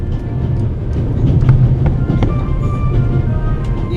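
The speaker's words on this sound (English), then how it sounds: "The noise on this train is driving me crazy." Steady rumbling train noise aboard the Orient Express in the video game The Raven Remastered: a constant low mechanical roar with faint clicks and rattles throughout, with no talk over it.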